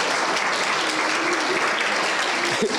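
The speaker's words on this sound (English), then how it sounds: "You need to give them a round of applause because they are great" Dense, sustained applause from a crowd, loud and even throughout.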